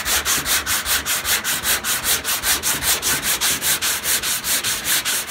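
Body filler on car bodywork is sanded by hand in quick, even back-and-forth strokes, a loud rhythmic rasping heard close up and alone.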